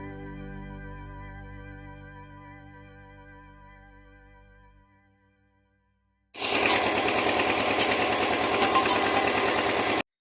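A ferry vessel crossing from Lakshmipur ghat to Kamdebpur ghat in the Sundarbans: a humming tone fades into brief silence, then a loud, rattling engine starts abruptly and runs steadily up close.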